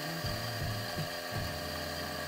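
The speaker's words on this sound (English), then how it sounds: "there is no button here to engage your grinder, so you do need to press the button on the front" Fiorenzato F4 Nano electronic doserless espresso grinder running, a continuous motor drone with a rising and falling grinding hum throughout.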